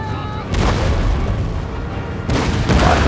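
Cannon fire in Empire: Total War during a multiplayer battle between Great Britain and the Maratha. Heavy, loud booms roll in one after another and merge into a continuous rumbling barrage.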